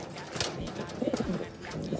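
Pigeons cooing near a wall while being fed breeder mix, with soft, close bursts of low throaty coos over a faint background of other bird sounds.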